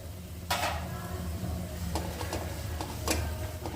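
Millet flour being stirred and sautéed in oil with garlic and chili in a pan, with a soft sizzle under scraping spatula strokes and a few sharp metallic clinks against the pan.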